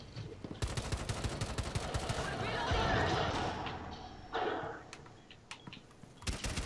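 Rifle fire from the 417 in Rainbow Six Siege, repeated quick shots over a busy, fairly quiet background, with players talking in the mix.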